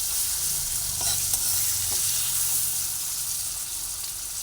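Ginger and tomatoes fry together in a pan, giving a steady dense sizzle with faint stirring scrapes and no voices, close and continuous.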